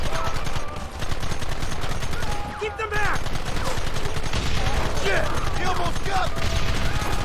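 Dense, rapid gunfire in Red Dead Redemption rattles almost nonstop with a brief lull near the three-second mark, loud and close, with scattered electronic effects mixed in.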